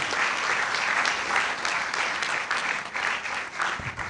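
Steady applause from an audience at a University of Cape Coast School of Pharmacy and Pharmaceutical Sciences ceremony, sustained clapping at an even loudness for the full stretch with no voices standing out.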